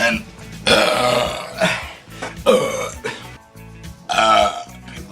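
A man lets out a series of loud, drawn-out burps, three main belches with short gaps between them, close to the mic and otherwise alone.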